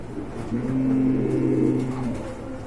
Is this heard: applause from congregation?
no